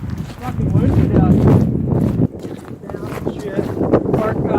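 Strong gusty wind buffets the microphone beside a lake with whitecaps, a loud rumbling roar that rises and falls under people talking.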